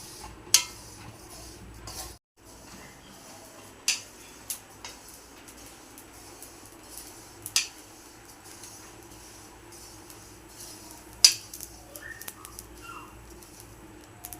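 Cumin seeds and whole masala spices dry-roasting in a pan give off sparse, faint crackles and sharp ticks, scattered irregularly over a low steady background.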